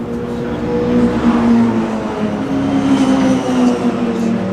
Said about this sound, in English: There's a lovely straight six engine, triple carburettor, triple Webers.